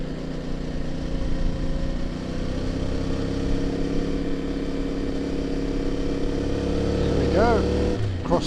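A CF Moto motorcycle rides along forest roads, its engine droning steadily with rising harmonic tones as it shifts up through gears, wind noise throughout and a brief pitch sweep near the end.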